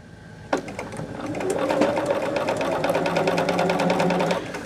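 A sewing machine stitches pieced quilt blocks at a quarter-inch seam, starting with a click and running in a steady, fairly loud mechanical whir for several seconds under a speaking voice.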